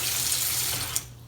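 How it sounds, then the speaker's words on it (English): Mildly warm water runs steadily from a tap into a sink, a loud continuous splashing hiss that eases off near the end. "Mildly warm water, and maybe a spritz of"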